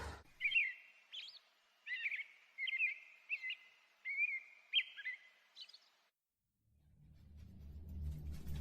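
A brown-throated thrush sings a string of clear, repeated whistled phrases, bright and fairly close, with short gaps between them, then falls silent as the low rumble of a car rises afterward.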